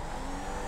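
Car engine in Grand Theft Auto V roleplay driving, an Opala, a steady droning motor note held close and loud through the short moment with some tire noise, no talking.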